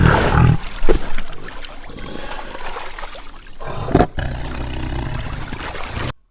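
A tiger roars loudly and close in a single sustained burst at the start, followed by a rougher, lower roar partway through, with a watery trickling texture underneath.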